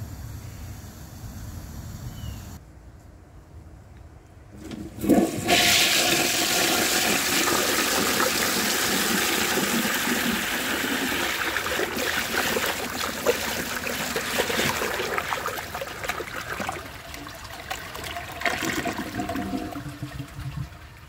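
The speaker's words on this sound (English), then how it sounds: "now, let's see how it flushes with the power of 18 gallons" A 1988 Artesian Atlantis toilet fed from a high tank flushes with a loud, sustained rush and gush of water that starts abruptly and pours steadily for about fifteen seconds before easing into a trickle.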